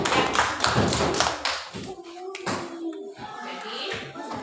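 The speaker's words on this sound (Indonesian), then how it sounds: "Tepuk tangan kalau setuju semua." First-grade children clap their hands in class, a burst of quick, close clapping that thins into scattered taps and thumps, with children's voices mixed in.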